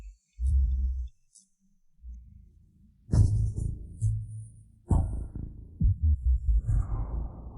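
Heartbeat sound effect: deep, low thumping pulses arriving in uneven clusters, loud and close, with brief silences between the beats and no voices.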